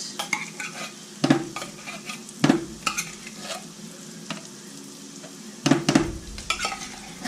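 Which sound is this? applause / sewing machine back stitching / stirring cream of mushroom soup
stirring cream of mushroom soup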